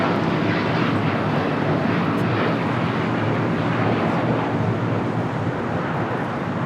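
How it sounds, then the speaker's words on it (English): A United Airlines Boeing 787-9 Dreamliner taking off at LAX, a loud, steady, broad jet engine roar that holds constant throughout with no speech over it. "This is United Airlines 801 taking off to Hong Kong on a 787-9 Dreamliner."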